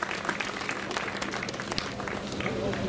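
A crowd at an outdoor protest rally in Berlin applauds steadily for a few seconds, dense overlapping claps at a moderate, even level.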